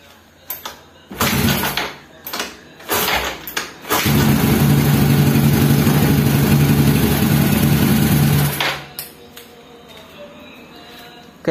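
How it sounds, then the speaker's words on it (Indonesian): A Yamaha Mio motorcycle engine, started with a homemade wiring cable, catches after a few short bursts and then idles loudly and steadily at close range for several seconds before cutting off. "untuk sepeda motornya itu sudah nyala ataupun sudah hidup"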